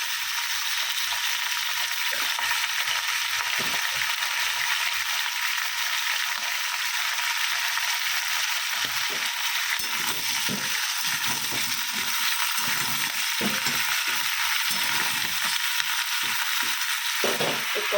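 Salted meat and tomatoes fry in a pan with a steady, close sizzle, while a spoon stirs through them with scattered scraping clicks; no voices.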